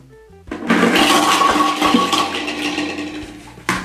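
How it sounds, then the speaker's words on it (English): A toilet flushes with a sudden loud rush of swirling water that holds for about three seconds, then tapers and cuts off near the end. "My dad has this new toilet that can flush 18 golf balls."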